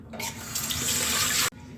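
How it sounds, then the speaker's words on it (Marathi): A clay pot is rinsed under a running tap: a bright, rushing gush of water pours for over a second close by, then cuts off abruptly. "आता याला आपण पाण्याने धुवून घेऊया"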